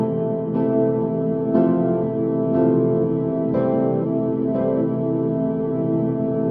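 A frozen reverb drone from the QuaDelay app holds a thick, sustained harmonic wash, with a fresh attack roughly every second layered over the continuous tone, loud and with no speech.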